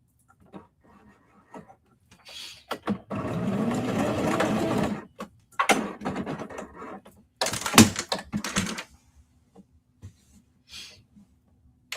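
A sewing machine stitches a denim tote bag with a 3/8-inch seam allowance, running in short bursts and then one long steady stretch of stitching in the middle, close and clear with no talking.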